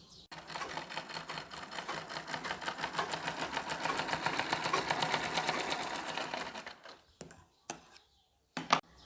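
A sewing machine stitches kurti fabric in one long, fast, even run of needle clatter lasting several seconds, then stops, followed by a few short clicks and handling noises.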